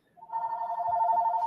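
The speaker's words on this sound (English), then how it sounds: "ooh, the phone's ringing." A telephone rings with a steady electronic trill that rises in quickly and continues evenly for over a second, fairly clear and unaccompanied.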